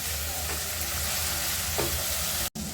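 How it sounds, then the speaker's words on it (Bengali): Garlic and ginger paste frying with onions for an egg korma, a loud, continuous close sizzle with occasional stirring scrapes, broken by a sudden brief drop near the end. "পেঁয়াজের সাথে ভেজে নেব আমি রসুন আর আদা।"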